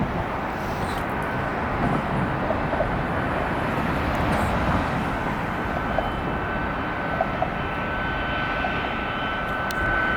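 An airplane taxis at Atlanta airport, its engine a loud steady roar and broadband rush that holds level throughout, with faint intermittent ticks from nearby.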